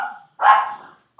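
A deaf dog barks twice close by, a short bark followed by a longer, louder one, with the start of another at the end.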